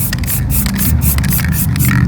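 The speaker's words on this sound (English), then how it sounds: "Let's take some black. And we're just going to spray it down." A spray paint can hisses black paint in short repeated bursts during spray paint art, close and fairly loud with brief gaps between sprays.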